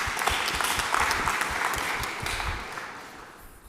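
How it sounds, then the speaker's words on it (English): A room of listeners at a security and intelligence-law talk gives a warm round of applause for the speaker, dense steady clapping that fades gradually toward the end. "So please give a warm round of applause for Jan-Jaap Oerlemans."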